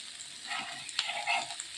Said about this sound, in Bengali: আমি একটু উল্টে পাল্টে একটু হালকা করে ভেজে নিচ্ছি।